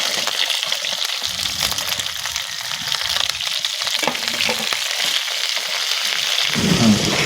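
Onions and curry leaves fry in a pan for samosa filling, giving a continuous loud sizzle and crackle with no voices.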